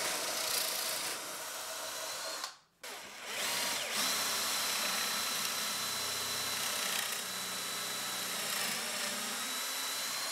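Power drill whirring steadily as it drives pocket hole screws into a shelf inside a built-in electric fireplace cabinet, close and loud, with a brief pause in the motor partway through.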